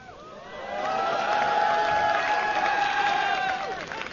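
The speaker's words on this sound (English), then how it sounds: "Got a little cowbell in there." A live audience at the MLG Providence League of Legends final cheers loudly, a sustained crowd roar with shrill whistling tones that swells, holds for a few seconds, then tapers off.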